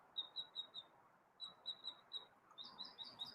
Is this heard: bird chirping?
yes